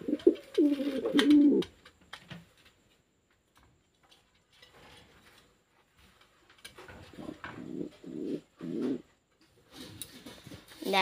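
Pigeons cooing near their nest with a baby pigeon, soft bursts of low throaty coos at the start and again toward the end, separated by near silence with faint ticking.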